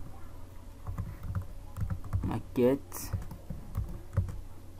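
Computer keyboard typed on by a user entering text into a form: a steady patter of light key clicks, close up, with a brief vocal sound partway through.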